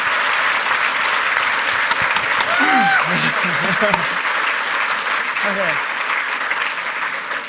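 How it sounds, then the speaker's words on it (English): Loud, sustained applause from a large conference audience greeting a speaker and crew at the 26C3 hacker congress, steady throughout, with a voice speaking briefly over it. "Guys, give them a huge round of applause."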